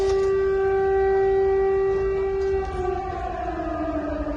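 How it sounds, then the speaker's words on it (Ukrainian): A loud, steady air raid alert siren wails on one sustained tone near a university, then begins to slide downward near the end. "Лунає сигнал повітряної тривоги."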